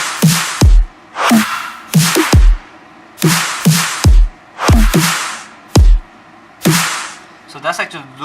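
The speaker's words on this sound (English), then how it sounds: "So that's my drum loop which I made." A self-made electronic drum loop plays alone, with punchy low kicks paired with bright snare hits in a steady repeating rhythm of about eight beats, ending on a faint fluttering tail.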